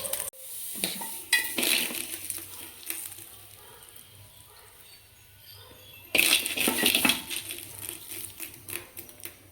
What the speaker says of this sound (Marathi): आता फोडणीच आपण वड्यावर टाकून घेऊया.